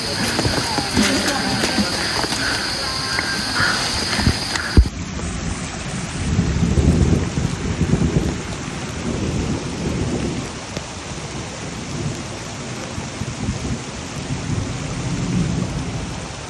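Heavy rain pours steadily during a rainy-season mountain trek on Gunung Salak, with rolling thunder rumbling and swelling through the downpour; a louder burst near the start gives way to dense, close rain.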